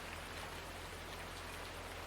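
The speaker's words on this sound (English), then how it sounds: "Problem with this map, it seems to rain all the time so far" Constant rain in the farming game Farming Simulator 19, a steady even hiss of falling drops, faint and unbroken, with no talking.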